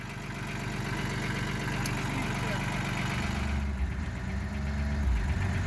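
A tractor engine hauling freight along a bumpy Alaskan trail drones steadily and close, a continuous mid-pitched rumble with slight knocking, shifting to a heavier labouring tone toward the end.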